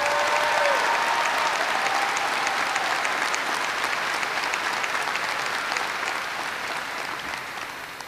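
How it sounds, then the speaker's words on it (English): A large graduation audience gives dense, sustained applause for a student enlisting in the military, a loud, even roar of clapping that eases slightly toward the end. "Chris Hall, please stand up so we can applaud your patriotism."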